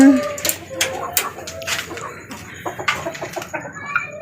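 Rooster clucks and short crowing calls come in bursts, fairly close, while people talk in the background.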